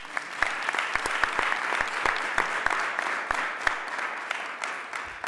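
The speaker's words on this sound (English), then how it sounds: "So one more round of applause for us." An audience claps at a school board of education meeting, a steady patter of many hands with a few sharper nearby claps standing out, moderate in loudness and unaccompanied by talk.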